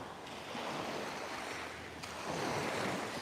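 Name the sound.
waves on the beach at Playa de Muro, Mallorca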